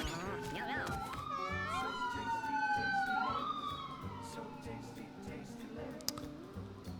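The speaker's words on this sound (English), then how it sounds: "Alright, the police sirens." Police sirens wail in the video game Mewgenics: several rising and falling electronic tones sweep across one another for a few seconds, loud over a steady, thumping game music bed.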